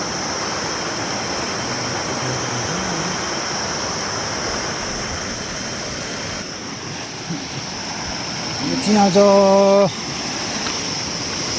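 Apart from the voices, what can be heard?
river water flowing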